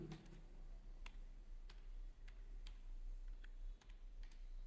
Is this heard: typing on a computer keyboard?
yes